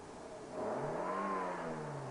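A car engine revs up once in a smooth rising whir, fairly faint and steady after the rise, with no voices over it.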